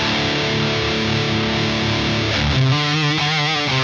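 An electric guitar plays through a Marshall DSL100 amp on the OD1 channel with very high gain, heavily distorted, loud and sustained, with chords shifting near the end.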